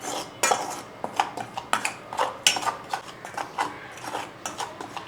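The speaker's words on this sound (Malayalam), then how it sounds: "ഇനി ഇതെല്ലാം കൂടെ നന്നായിട്ടൊന്ന് ഇളക്കി മിക്സ് ചെയ്തെടുക്കും" A spoon clinks and scrapes repeatedly against a bowl while spice powders, including asafoetida, are mixed for a Kerala fish curry. The taps come in a quick, uneven rhythm, close up, with no talking.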